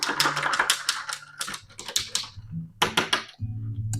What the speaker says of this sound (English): Let's give that a little stir.